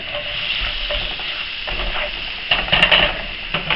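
Butter sizzles and crackles in a hot pan over turned-down heat while making beef stroganoff, a steady close fizz that swells into louder spitting pops near the end, with occasional stirring scrapes.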